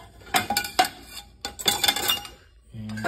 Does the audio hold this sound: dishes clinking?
yes